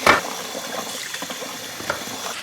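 Water running over a roasted beef bone being rinsed for pho broth, a steady splashing hiss with a sharp splash at the start and small clinks throughout.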